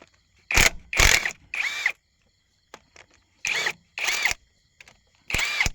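An impact wrench drives nuts while brake pads are changed on the steering brakes of a Kubota DC70 harvester: about six loud, close, buzzing hammering bursts of roughly half a second each, separated by silent gaps and a few faint clicks.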